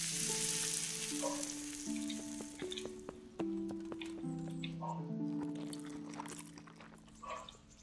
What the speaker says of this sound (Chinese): 煎个荷包蛋